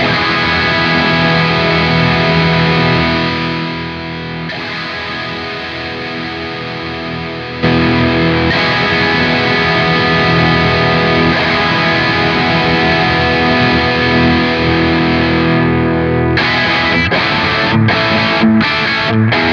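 Electric guitar played through the lead channel of a Line 6 Stadium amp modeler, a loud, distorted and sustained tone that runs steadily and then breaks into short choppy stabs near the end, with no voices.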